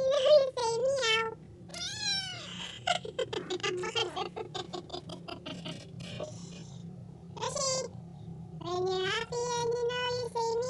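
Pet cats meow repeatedly along to a sung tune, a run of short, high, wavering calls close up, with clicks and patter in between.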